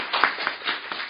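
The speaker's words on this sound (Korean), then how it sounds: "박수 부탁드립니다" Clapping from the audience at a Korean panel discussion on cancer treatment policy, a scattered run of individual claps close by, uneven in rhythm and fairly brief.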